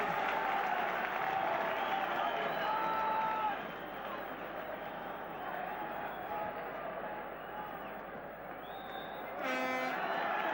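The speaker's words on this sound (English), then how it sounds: "The Aberdeen supporters cheer their favourites off." Aberdeen supporters at a European match against Bayern Munich cheer and applaud at half-time, a steady distant crowd roar with clapping that dips midway and swells again near the end.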